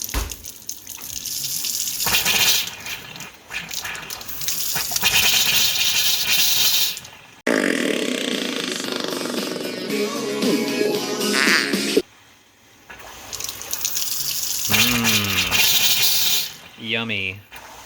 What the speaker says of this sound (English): Pretty soon here we're going to see a whole bunch of air coming out, and probably some nasty water as well.